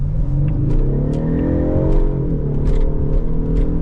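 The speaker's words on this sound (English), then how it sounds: "You can hear me barely losing the rear tires." A 2026 Ford Mustang EcoBoost engine revs hard and rumbles as it accelerates with the rear tires slipping, heard from inside, with a steady throaty drone and shifting pitch throughout.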